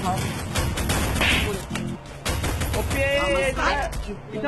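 Rapid shotgun and rifle fire from an online shooter video game, loud bursts and crashes that continue throughout under excited talking voices.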